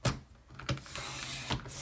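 Sharp cuts through platinum shimmer cardstock, trimmed into a 1-inch square, come as three distinct snaps spaced about three-quarters of a second apart over a quiet background.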